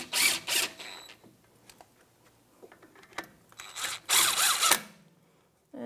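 A power tool with a 17 mm socket snugs brake caliper bolts on a 2011-2019 Ford Explorer, two short whirring bursts separated by quiet clicks and handling noises.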